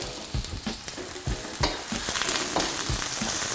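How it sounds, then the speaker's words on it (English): Onions and garlic saute in oil for a Malaysian vegetable stir-fry, a close, loud sizzle broken by several quick stirring scrapes early on before settling into a steady hiss. "I'm just going to saute all of that for a couple minutes, making sure to move the ingredients around a lot like this so nothing gets burnt"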